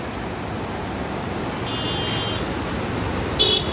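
The Bhilangana river rushes fast beneath a bridge by a Hanuman temple, a steady loud broadband roar with faint distant vehicle horns over it.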